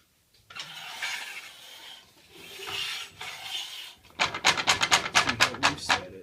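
Incra TS-LS table saw fence lock being loosened: a few seconds of soft rubbing and sliding scrapes, then a quick run of about a dozen sharp rasping clicks, close and fairly loud, with no talking.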